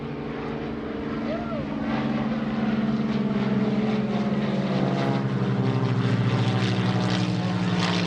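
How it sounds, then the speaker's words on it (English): A pair of T-34 Mentor propeller planes, with 310 and 285 horsepower engines, fly in at an airshow, a loud buzzing drone swelling as they approach, while an announcer talks over it. "From the right, here comes Stash and Sliver with the T-34 Mentors."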